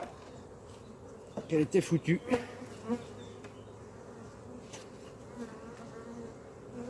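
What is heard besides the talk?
honeybees buzzing at an open hive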